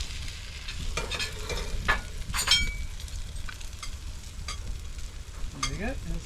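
Fish grilling outdoors on a boat sailing toward Gibraltar, with steady sizzling and crackling, occasional sharp pops and scraping stirs, close and moderately loud, with no talking.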